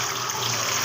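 Water runs steadily and close from a tap while young bottle gourds are washed, a continuous splashing hiss with no pauses.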